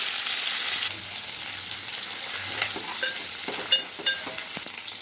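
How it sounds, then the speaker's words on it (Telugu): Dried small fish fry in hot oil in a pan, a steady loud sizzle with faint crackles and a few soft stirring clicks, no voices. "ఎండు మెత్తళ్ళు కొంచెం ఆయిల్లో వేసి ఫ్రై చేసుకోవాలండి"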